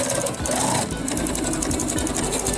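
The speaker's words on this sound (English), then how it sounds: "I then stitch it along the edge of the loin skirt." Sewing machine fitted with a jeans needle stitching along the edge of a loin skirt, a fast continuous mechanical whir with rapid needle clatter, loud and close, running without pause.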